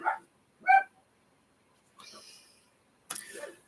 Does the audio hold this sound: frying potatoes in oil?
no